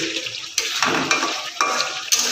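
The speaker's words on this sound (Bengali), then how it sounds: "আদা রসুন কাঁচা লঙ্কার পেস্টটা আমরা ভালো করে একটু নিয়ে নিচ্ছি এটা খুব ভালো করে একটু কষিয়ে নিতে হবে" Ginger, garlic and green chili paste frying in a pan while being stirred: a steady sizzle under repeated scrapes and clanks of a utensil against the metal pan, close and loud, with no talk.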